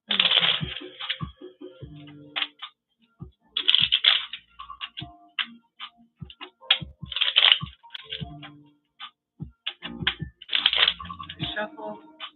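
Tarot cards are shuffled by hand close up, with repeated bursts of riffling flutter and crisp slaps and taps between them in an irregular rhythm.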